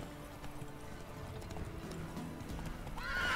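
A horse in The Witcher 3 video game clip-clops along at a steady trot, then gives a whinny near the end, heard over quiet game ambience.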